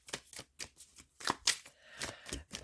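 Tarot cards are shuffled and handled up close, a steady run of crisp riffling flicks and soft slaps that come in quick rhythmic bursts with no talk over them.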